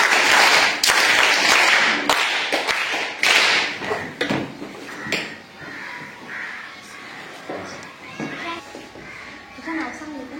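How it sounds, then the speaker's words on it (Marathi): Schoolchildren in a primary school classroom clap together in a loud burst of applause that fades into scattered claps, with a teacher's voice and children talking over and after it. "तेवढे सगळ्यांनी परत एकदा टाळ्या वाजवायच्या"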